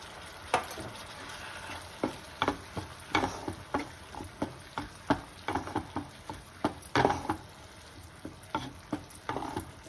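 Chole masala with turmeric being stirred in a pan over high flame, a steady frying sizzle broken by regular sharp scrapes and clinks of the spoon against the vessel, close and fairly quiet.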